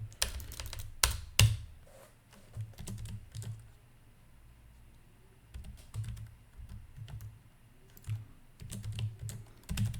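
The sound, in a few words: typing a password on a computer keyboard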